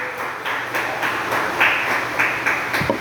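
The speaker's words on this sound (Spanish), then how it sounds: "Le damos una ofrenda de palmas a nuestro buen Dios" A church congregation claps together in a rhythmic offering of praise, a steady run of moderately loud hand claps pulsing at a regular beat in a reverberant room.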